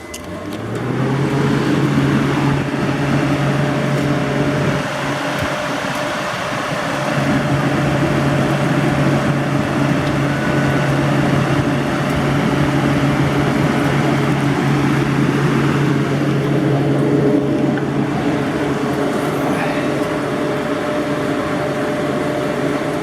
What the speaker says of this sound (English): So now let me just turn the fan on.